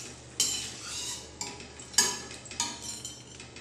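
Fried potato snacks being lifted out of hot oil with a metal utensil, giving sharp clinks and scrapes against the pan over a faint background, several distinct knocks spread across the moment.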